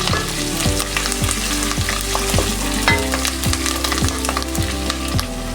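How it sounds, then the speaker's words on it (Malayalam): Green chili and curry leaves hit a pan of sizzling ginger and garlic for an egg curry, producing a loud, continuous frying hiss. A spatula scrapes the pan in a regular rhythm under it. "ഇഞ്ചി വെളുത്തുള്ളി മൂത്ത് വന്നിട്ടുണ്ട് ഇതിലേക്ക് നമുക്ക് പച്ചമുളക് കറിവേപ്പില ചേർത്ത് കൊടുക്കും"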